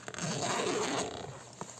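A small zipper on the mesh pocket of a Viking Dagr motorcycle sissy bar bag is pulled along in one smooth, quiet rasping stroke, close by, then stops with a light click.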